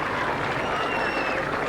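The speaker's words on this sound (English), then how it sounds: "A huge round of applause from members of the public" Members of the public applaud outdoors at the Queen's opening of the University of Lincoln, a steady, dense wash of clapping from a crowd, with faint voices and a thin whistle-like tone mixed in.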